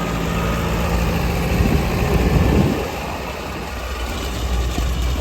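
A tractor engine runs on a farm field during soybean sowing, a steady, broad rumbling drone with a slightly louder swell midway before settling back to an even hum.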